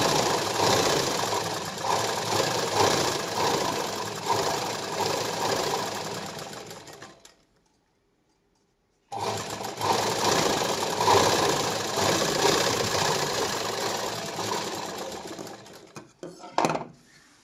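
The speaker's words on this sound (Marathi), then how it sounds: "जास्त कडेला पण नाही शिलाई घ्यायची, मधोमध घेतली तरी चालते." A sewing machine runs in steady bursts stitching a silk blouse, its motor whirring loud and close for several seconds, stopping briefly, then running again with no talk.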